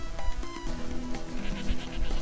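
A person does a goat voice during play of Guacamelee! Super Turbo Championship Edition, a wavering, bleat-like imitation heard over game music and effects.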